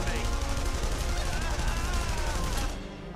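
Rapid, continuous gunfire from the video game The Saboteur, dense automatic bursts at close range filling the whole stretch before cutting off abruptly at the end.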